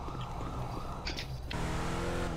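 A car drives in GTA 5 roleplay on the streets of a favela, its steady engine rumble carrying throughout, with a brief high chirp around the middle and a shift to a louder, fuller engine tone near the end.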